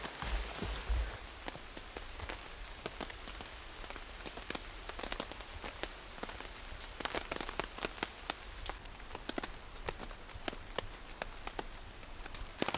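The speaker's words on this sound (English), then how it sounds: "It's starting to rain." Steady rain patters on a tarp overhead, a dense, even spray of drops with sharper taps scattered throughout and no voices.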